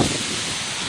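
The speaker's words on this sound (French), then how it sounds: "les arbres sont en train de bouger là, parce qu'il y a du vent." Wind moving trees outdoors near a construction site gives a steady broadband rush and rustle of leaves, with low buffeting gusts at the microphone, continuous and fairly loud for about a second with no voices.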